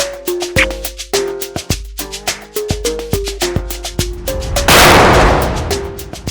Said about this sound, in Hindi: गोली किसने चलाई?